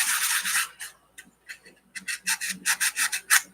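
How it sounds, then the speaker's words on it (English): Rough scratching strokes on a slick surface to roughen it for grip, a burst of rasping then a run of quick, regular rubbing strokes up close with short pauses between. "I think I'm going to scratch it up a bit."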